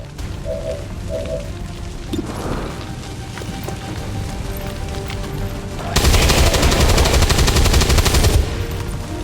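Gunfire from the video game XCOM: War of the Chosen, a muted, rattling background at first, then a loud, dense burst of rapid automatic fire near the end, with no voices.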